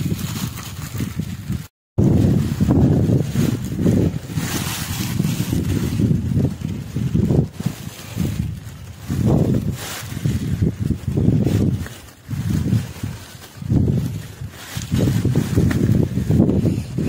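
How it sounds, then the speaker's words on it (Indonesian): Strong storm wind buffets the summit of Mount Arjuna in repeated loud gusts, roaring and whooshing against the microphone with brief lulls between blasts. "Badainya masih kencang."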